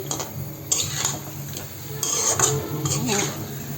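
Fish curry with potatoes is stirred and fried in a pot, a utensil scraping and clinking against the metal in quick irregular bursts over a steady sizzle, close and fairly loud.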